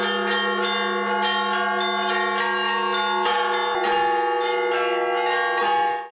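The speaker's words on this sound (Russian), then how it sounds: "Колокольный звон в День Светлого Христова Воскресения разнесся в разных городах России" Russian Orthodox church bells ring out steadily for Easter, their layered tones sustained and resonant throughout before cutting off at the end.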